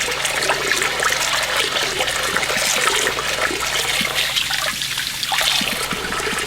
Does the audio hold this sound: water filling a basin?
yes